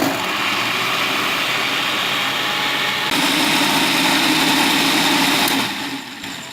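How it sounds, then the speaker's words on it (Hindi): A mixer grinder whirs through mango pieces for jam with a loud, continuous motor drone. The pitch shifts slightly midway, and the motor winds down just before the end. "आम के इन टुकड़ों को ग्राइंड कर लेंगे"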